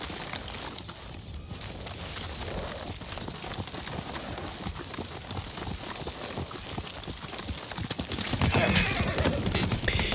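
Horses gallop in the video game Ghost of Tsushima, a steady fast clatter of hooves with a whinny, dense and continuous, growing louder toward the end.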